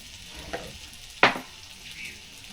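Turkey gizzards sautéing in a pan give a low background sizzle. One sharp scrape or stir cuts through in the middle, and a fainter one comes just before it.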